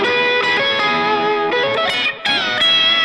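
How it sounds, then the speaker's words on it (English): An electric guitar runs through an Electro Harmonix Intelligent Harmony Machine pedal set to add a third below in E, giving a dense, continuous stream of harmonized, slightly distorted notes with brief dips between phrases. "A third below in the key of E would sound like this."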